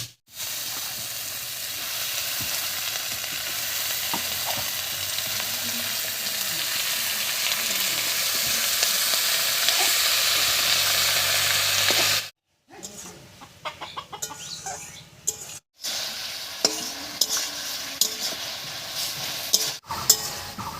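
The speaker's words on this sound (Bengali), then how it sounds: "আলুর সঙ্গে শাকটাকে খুব ভালো করে মিশিয়ে নিয়েছি" Chopped spinach is stirred into a pan of fried potatoes and softened tomatoes, giving a long, steady sizzle followed by intermittent scraping stirs and brief pauses.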